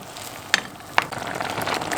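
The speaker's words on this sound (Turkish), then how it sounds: "Yavaş yavaş kaynamaya başladı." Banana peels in a pot of water on a stove start to boil, giving a soft, steady bubbling hiss with two sharper pops near the middle, close and fairly quiet with no voices.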